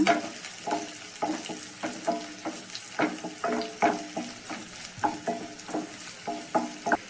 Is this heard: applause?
no